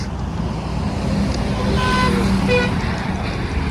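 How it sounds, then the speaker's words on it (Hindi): Heavy highway traffic roars past nearby, a dense steady rush of cars and trucks with a couple of brief horn toots mixed in. "ट्रैफिक देख रहे हो, बहुत है यार, बहुत ट्रैफिक चल रहा है।"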